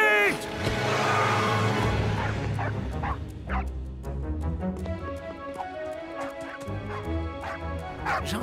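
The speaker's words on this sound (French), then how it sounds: "Gentil, le chien." A dog named Shakes gives short barks and whimpering yips close by, over a busy, continuous background, while people talk now and then.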